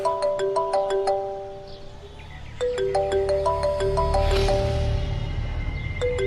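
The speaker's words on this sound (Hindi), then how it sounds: "हसीली का फोन" A mobile phone rings with a melodic electronic ringtone, bright repeating note patterns playing in two bursts with a short pause between, clear and fairly loud with low background hum and no talking.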